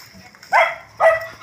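An angry dog chasing someone gives two loud, close barks about half a second apart, with faint low background noise between them.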